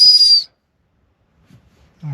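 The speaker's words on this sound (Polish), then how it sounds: "On tutaj ma też gwizdek, tak?" A Retevis EZTalk 65 radio's built-in whistle gives one short, shrill, loud blast up close, followed by near silence and brief faint handling sounds.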